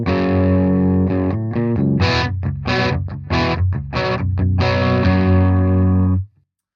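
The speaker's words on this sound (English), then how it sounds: "I'll jump up to a bit more gain on the clean channel, kind of more of, a classic rock kind of sound." An electric guitar with Seymour Duncan Nazgul and Sentient rails pickups, in a Jackson Pro Series, played through the amp's clean channel with extra gain for a classic rock tone, with chunky chords and short choppy stabs, loud and close, stopping abruptly.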